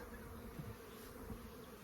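Faint, continuous buzzing of honeybees bringing in pollen, droning steadily in the background, no talking.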